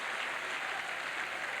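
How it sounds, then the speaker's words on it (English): A football crowd at an evening match between Swindon Town and AFC Bournemouth applauds the Swindon team's entrance, a dense, steady clapping heard from a distance with no voices on top. "Crowd gives them a good reception for this evening match against Bournemouth"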